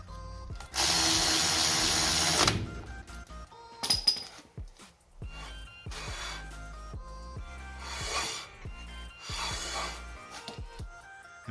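Socket wrench tightening a shock bolt on a 1978 Ford F-250: a loud burst of whirring, then several ratcheting and metallic clicking passes at close range.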